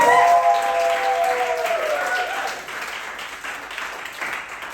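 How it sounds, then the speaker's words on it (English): An audience at a fringe comedy gameshow applauds a guest walking on, a dense burst of clapping that starts loud, then thins and fades, with a tonal sound over the first two seconds. "Give her a massive round of applause"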